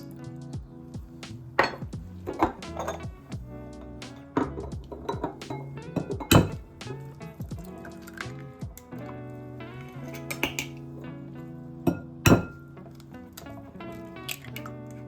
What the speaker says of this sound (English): we're going to take our vanilla and then we're going to finish it off with our 3 eggs